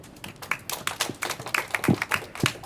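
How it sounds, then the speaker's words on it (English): An audience at a local beer and wine production panel claps in scattered, uneven bursts, moderately close, with some louder individual claps standing out and no talking over it. "So a round of applause again."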